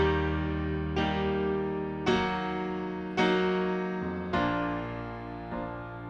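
Piano chords played one after another in a slow progression that shifts major triads to minor by lowering the third, six sustained struck chords at even intervals, each ringing and decaying, with no talking.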